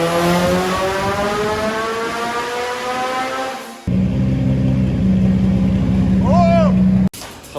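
A nitrous-fed Mitsubishi Evo 5 RS roars on a dyno, its engine tone climbing steadily under load for several seconds before cutting to a lower, steadier drone with whistling chirps near the end.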